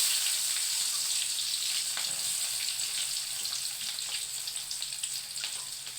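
Chopped onion hitting hot oil in a pan, a bright, loud hissing sizzle that starts strong and settles into steady frying with faint crackles, no voices.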